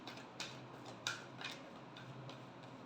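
Tarot cards are shuffled in a quiet room, giving a few soft, separate snapping flicks and riffles spaced across a few seconds, close but faint.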